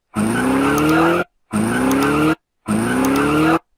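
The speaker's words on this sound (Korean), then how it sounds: "자동차 주행" Car driving sound effect made of a revving engine with a rising tone and tire noise, played three times as loud, steady bursts of about one second, each followed by a short silence.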